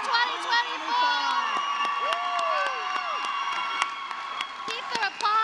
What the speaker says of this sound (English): Keep the applause going and let's celebrate.